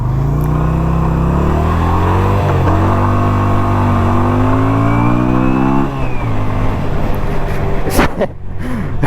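A Yamaha V-Star 250 motorcycle engine revs hard and climbs through the gears, close and loud for several seconds before easing off, with a gusty rush of wind near the end.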